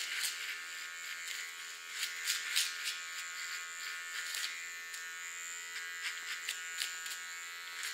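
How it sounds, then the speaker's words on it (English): A small electric hair clipper trims a hair contour with a close, steady high buzz. Faint snips and brushing ticks come and go as it works along the line. "With my small clipper, I clean the contour."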